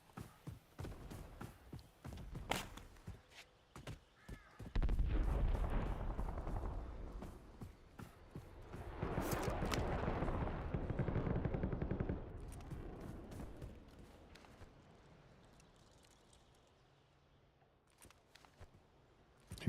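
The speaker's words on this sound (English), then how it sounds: "I heard shots this way." Call of Duty: Warzone gunfire comes as rapid bursts and single shots at varying distances, some dense and rumbling, others sparse and fainter, fading toward the end.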